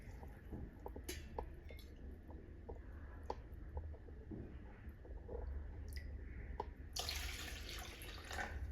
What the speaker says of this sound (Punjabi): ਤਿੰਨ ਕੌਲੀਆਂ ਭਰ ਕੇ ਪਾਣੀ ਦਾ ਲਵਾਂਗੇ